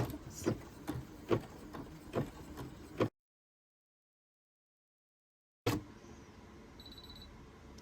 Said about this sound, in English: put your presser foot down and press start